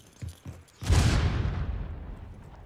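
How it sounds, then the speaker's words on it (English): A grenade detonates in a Rainbow Six Siege match, a loud close boom with a long rumbling decay, preceded by a couple of short muffled thuds. "Grenade!"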